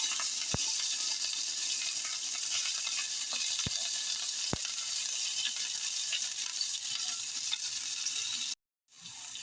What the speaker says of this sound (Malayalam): ഇതിനെ നന്നായി ഒന്ന് മൂപ്പിച്ചെടുക്കാം.